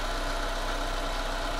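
A car engine runs on a weak, used battery, making a steady, loud mechanical drone that is continuous and close throughout, with no speech.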